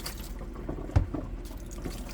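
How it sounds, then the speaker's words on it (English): Water poured out of a container after rinsing aji dulce peppers for Spanish sofrito, a short close splash near the middle over a low steady background hum, with no talking. "so now I'm just rinsing out the ajicito dulce"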